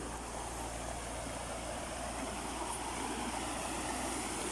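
A forest stream near the hot spring at Khuan Mak, Thepha, Songkhla, flows with a steady, even rush of water, continuous and fairly close, with no voices over it.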